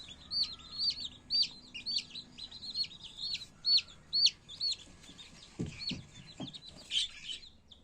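Cheaply bought young chicks, a little weak and newly moved indoors from a cold rooftop, peep in quick, repeated high chirps close by, with a few dull knocks near the end.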